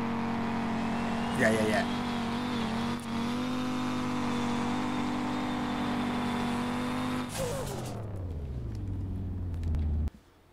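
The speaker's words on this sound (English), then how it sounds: "Listen to that spool, man!" A simulated Audi TT drift car in the game SLRR holds a steady engine drone with a rising turbo whine, then drops and fades abruptly near the end, while someone talks briefly over it.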